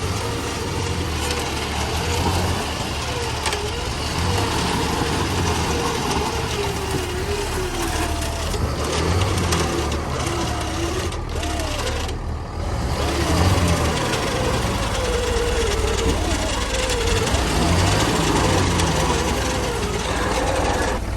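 A pickup truck engine runs in deep snow during a blizzard rescue, a loud, close, steady drone that holds near idle with mild swells of revving throughout and no clear talk.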